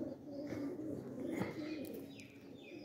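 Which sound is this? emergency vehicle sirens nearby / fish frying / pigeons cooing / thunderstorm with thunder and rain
pigeons cooing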